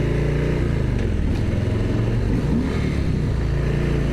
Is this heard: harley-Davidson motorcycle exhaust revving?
yes